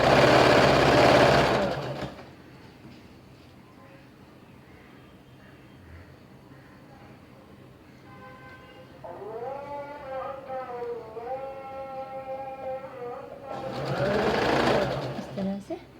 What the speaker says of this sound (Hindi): अब आप सिलाई लगाना शुरू करेंगे।